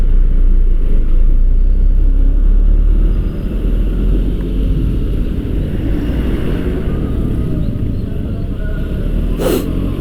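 Idling and slow-moving traffic jam rumbles nearby in the rain, a steady low engine drone with occasional faint revving; no talking.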